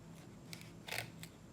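Three quick, crisp snips of scissors, faint and close, the middle cut the loudest.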